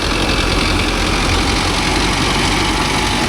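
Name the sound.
Mahindra 605 DI tractor engine running in creeper gear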